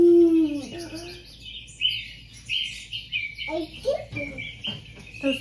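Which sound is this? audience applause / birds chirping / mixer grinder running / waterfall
birds chirping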